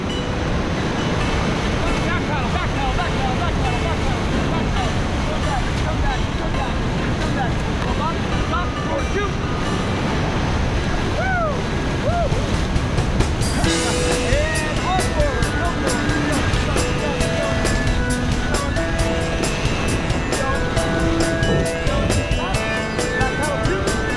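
Whitewater rapids on California's Kern River, the Class 4 False Flush, roar as a steady broadband rush throughout, growing brighter and busier partway through, with voices faintly mixed in.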